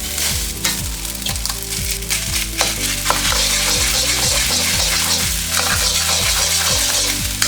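Two eggs fry in a hot pan with leftover rice and leftover pork ribs. The loud, close, steady sizzle runs under repeated scraping and stirring strokes.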